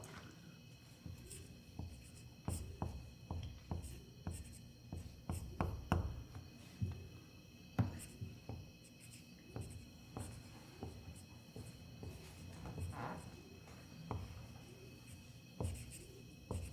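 A pen or marker writes on a board in short, irregular taps and scratches, faint and close, with brief pauses between strokes.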